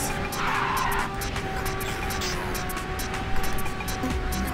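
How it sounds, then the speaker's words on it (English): A car drifts in the racing video game Ridge Racer 6, its tires letting out a sustained squealing skid over a continuous engine drone, with scattered game effects on top and no talking. "Excellent drift."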